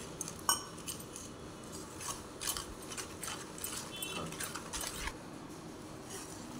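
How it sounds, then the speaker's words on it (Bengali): A utensil clinks and scrapes against a bowl while stirring a batter of gram flour and cornflour, steady rhythmic mixing with light metallic taps, close and fairly soft. "বেসন আর কর্নফ্লাওয়ার দিয়েছি। আমি এবার ব্যাটারটা তৈরি করে নেব।"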